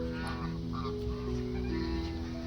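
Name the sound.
ducks honking at a hotel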